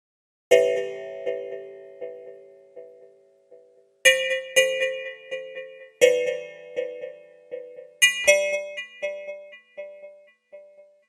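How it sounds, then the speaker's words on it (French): Chimes play a melody composed for a Twitch alert, bright struck notes in phrases of repeated tones with long ringing decay, each phrase starting with a loud hit, clear and alone in silence. "Le carillon, ça va être l'instrument principal."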